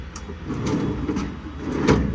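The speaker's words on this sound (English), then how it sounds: "Really nice operation on the drawers. The ball bearings feel great. They slide really easily." Toolbox drawers on ball-bearing slides on a 2006 F550 truck body glide open and shut, giving a few soft rolling, rumbling slides with light clicks, heard up close and without talking.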